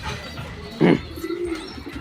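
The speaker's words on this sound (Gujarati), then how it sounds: "તો ભાઈ આ આપણા બધા કબૂતર છે, મસ્ત મજાના ચણે છે." A pet pigeon gives a short, soft coo, followed by a quieter second coo, against a quiet outdoor background while the birds feed.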